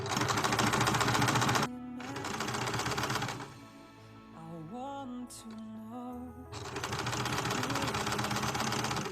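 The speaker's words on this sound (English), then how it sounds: "I folded twice all edges of the bodice and sew a hem so it won't fray." A sewing machine runs in rapid bursts while hemming the folded edges of an apron bodice, its close, loud mechanical chatter stopping and restarting, with quieter handling sounds in the pause between runs.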